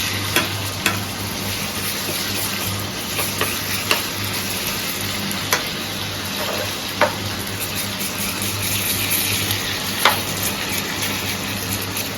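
Potato and pointed gourd frying with tomato in a pan, a steady soft sizzle running throughout with occasional sharp clicks of a utensil stirring against the pan.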